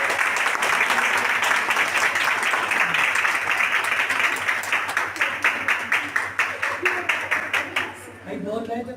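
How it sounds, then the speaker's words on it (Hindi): Audience applause at a ceremony for a blind persons' association, dense clapping that thins into a slower rhythmic beat of claps before fading as a voice begins at the end. "तालियां।"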